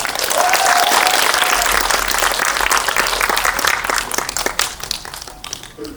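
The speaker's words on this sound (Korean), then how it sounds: "큰 박수 부탁드립니다." A Korean film screening crowd in a theater applauds as actors and the director come out for a guest talk, loud sustained clapping that gradually thins toward the end.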